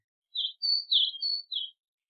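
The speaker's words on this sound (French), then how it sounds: "le printemps enfin renaît. Le soleil apparaît et les oiseaux reprennent leur joyeux gazouillis." Spring birds chirp in a storybook sound effect, five short bright tweets in quick succession against total silence, clean and close.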